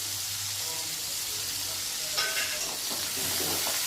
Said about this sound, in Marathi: बारीक चिरलेला कांदा टाकून घेते